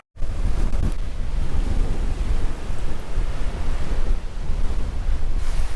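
Strong wind gusting on a coastal path heading toward a lighthouse, a loud continuous roar buffeting the microphone, with surf noise mixed in, close and unbroken throughout.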